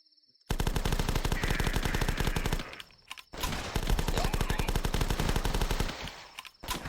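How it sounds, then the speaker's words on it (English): Rapid automatic gunfire from The Last Stand, a classic zombie flash game: loud, steady bursts of evenly spaced shots, briefly pausing midway before resuming, with no voices. "Keep on firing."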